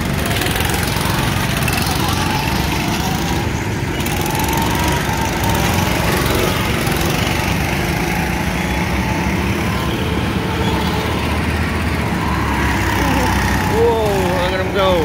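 Outlaw midget super stock race cars roar around a track, a continuous loud blend of several small engines buzzing and revving throughout, with spectators talking faintly underneath.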